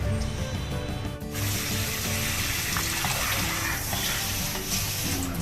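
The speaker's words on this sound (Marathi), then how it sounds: "आता वाईट जरा नुसतं पाण्यात धुवून काढतो आणि ठेवतो" A fish is rinsed under running water, a continuous close splash and pour of tap water with some clattering as it is handled.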